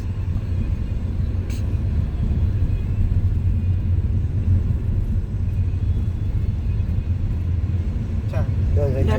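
A car driven by a learner on a road through an intersection gives a steady, loud low rumble that holds evenly throughout, with a couple of faint sharp sounds near the end.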